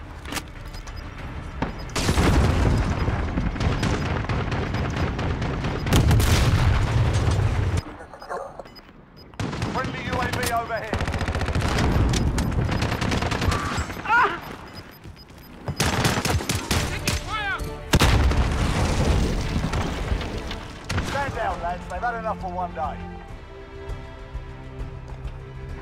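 Gunfire in the Call of Duty Modern Warfare video game, loud bursts of rapid automatic fire and single shots in several clusters with brief lulls, and voices shout between the volleys.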